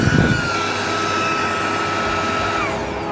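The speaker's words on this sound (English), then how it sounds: "It works very well in both vacuum mode and in blower mode." Portable car vacuum running inside a car: a steady, loud whining motor drone with a high tonal whine, continuous and close, no talking.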